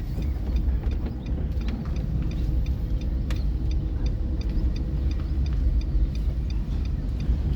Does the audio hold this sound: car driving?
yes